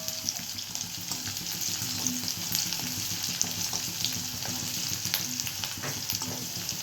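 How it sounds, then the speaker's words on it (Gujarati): Chopped onions sizzle and fry steadily in a pan of hot oil for a home-made pulao, a continuous close crackle with occasional stirring scrapes and no talking. "હવે આ ડુંગળી છે ને હું થોડીક બ્રાઉન થવા દઈશ"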